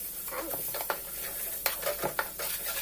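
Ginger garlic paste with turmeric fries in a pan, giving a steady soft sizzle broken by a few light scraping stirs of a spoon against the metal.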